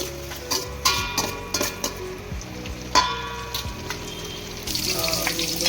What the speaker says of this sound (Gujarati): તેલમાં પહેલાં આપણે બધા કેપ્સિકમ નાખશું. થોડી વાર સોસણવા દઈશું.